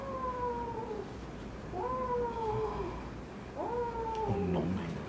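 A cat protesting as its tail oil glands are pressed by fingers, giving three drawn-out, complaining meows spaced a couple of seconds apart, fairly faint against a low background hum, with no talking.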